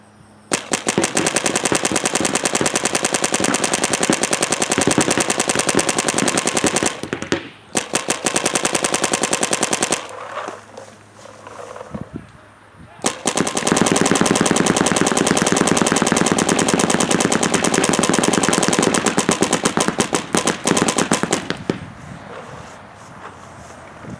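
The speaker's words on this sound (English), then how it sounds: "Obviously shooting the test one is a lot of fun" A Dynasty Field One Force paintball marker fires long, rapid bursts up close, sharp and loud, broken by a short pause and a longer quiet gap before another sustained stream of shots.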